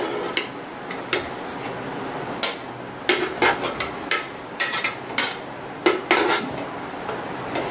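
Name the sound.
placing cooked stingray fish pieces on a plate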